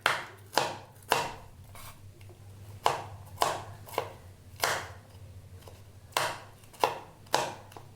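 A knife chops cauliflower into small pieces on a cutting board, about a dozen crisp, close thuds in an uneven rhythm with quiet gaps between strokes and no talk.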